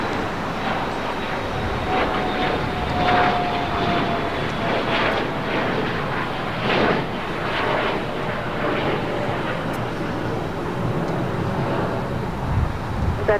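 Jet airliner engine roar near the runway at LAX, a broad continuous rumble holding steady and fairly loud for over ten seconds, with no voices over it.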